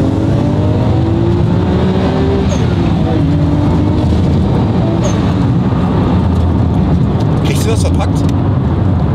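A Nissan Skyline R34 GT-R, its 280 PS high-revving short-stroke engine paired with short gearing, drones loudly and climbs in pitch from inside the car. Voices can be heard over the steady engine roar.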